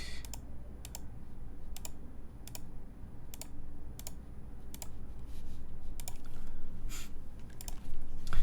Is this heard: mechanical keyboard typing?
yes